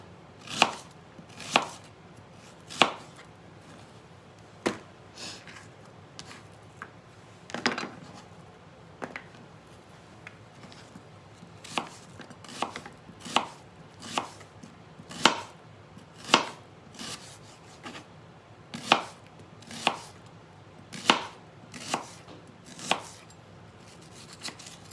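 An onion is chopped with a knife on a cutting board, with sharp, distinct knocks at an uneven pace, sometimes in quick pairs, close up and clear against a quiet room.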